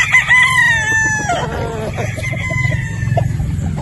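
A game fowl stag rooster crows loudly and close, one full drawn-out cock-a-doodle-doo followed by rough clucking and scratchy calls, alone with no talk.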